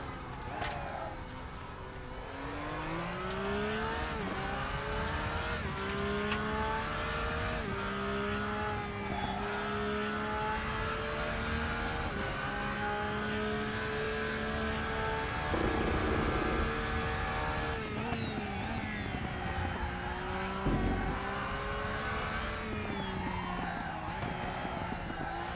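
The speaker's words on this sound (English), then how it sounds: "The curbs sound amazing. There's like different curb sound effects depending on this." A GT3 race car in the RaceRoom racing game runs at a steady, loud engine drone with shifting pitch as it rides over curbs, continuous throughout with no talking.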